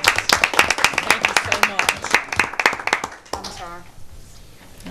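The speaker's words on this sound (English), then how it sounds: "Let's have another round of applause." Applause at a Fort Mill town council meeting, a dense burst of hand clapping from the room that tapers off after about three seconds, with a voice speaking briefly as it fades.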